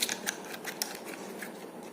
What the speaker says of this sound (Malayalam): അപ്പോൾ നമുക്ക് ഇത് അൺബോക്സ് ചെയ്യാം.